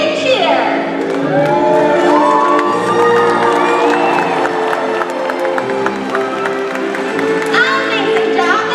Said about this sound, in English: When we see this jump, let's give it a great big cheer.